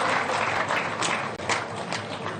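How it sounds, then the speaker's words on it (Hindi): Audience at an inauguration ceremony for a crafts and industry festival in Jodhpur clapping vigorously, a thick, continuous burst of many hands, loud and steady from start to end. "आपसे आग्रह है कि जोरदार तालियों से आपका अभिवादन और स्वागत"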